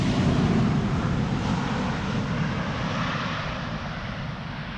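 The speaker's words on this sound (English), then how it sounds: "Let's first have a look at the landing of the Corendon A350." A Corendon Airbus A350 lands at Amsterdam Schiphol in crosswind conditions, its jet engines giving a steady broad roar that slowly fades over several seconds, with no voices.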